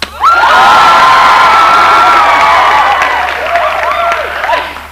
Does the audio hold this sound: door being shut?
no